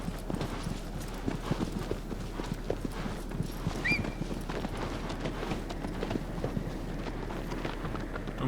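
A horse gallops in Shadow of the Colossus with quick, rhythmic clip-clop hoofbeats that run steadily throughout, moderately loud against a soft low ambient bed, with a brief faint whinny-like tone near the middle.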